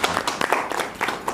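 A short burst of applause at a teachers' workshop session, several quick overlapping claps from a small group in a room, fairly close and moderately loud.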